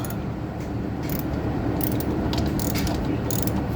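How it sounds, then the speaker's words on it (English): A ratchet wrench clicks steadily while turning a bolt near the tensioner pulley of a John Deere Z375R mower, a dense, continuous, close mechanical ratcheting with no speech. "hold it while I get another ratchet up on the bolt"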